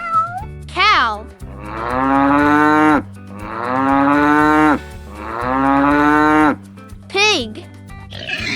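A cow moos three times in long, loud, low drawn-out calls close by, with short high cat-like meows at the start and near the end, over soft background music.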